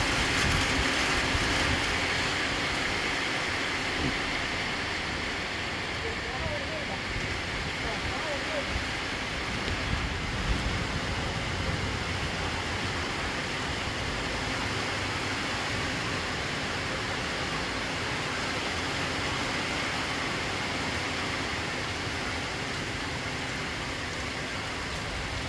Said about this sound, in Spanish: ahí viene con todo el agua ya